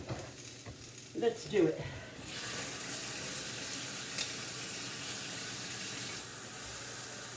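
Water poured into a hot frying pan during home cooking of a budget lunch sets off a steady, loud sizzle that swells after a couple of brief bangs and holds hissing to the end, with a short spoken remark near the start.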